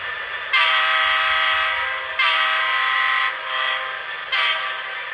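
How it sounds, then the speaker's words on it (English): An HO-scale Broadway Limited model locomotive with Paragon 2 sound sounds its horn in four sustained, bright multi-tone blasts with short gaps between, loud and close with no talking. "here's the horn"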